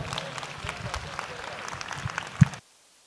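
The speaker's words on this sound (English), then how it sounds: "Let's give these kiddos a round of applause." Brief applause from the audience at a lamb and goat show, lasting under three seconds with a single louder clap near the end before it cuts to silence, mixed with some crowd murmur.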